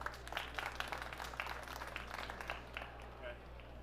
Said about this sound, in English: Crowd enjoyed that one.